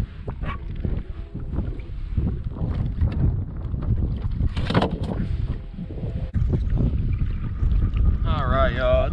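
Strong gusty wind buffets the microphone in a continuous low roar, with water sloshing and a voice speaking briefly underneath, on a kayak while fishing.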